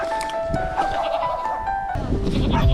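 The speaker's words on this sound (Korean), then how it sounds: "저기 염소 있다 아이가" A goat near a coastal road bleats in a few wavering cries, fairly close and loud. People talk over and around it.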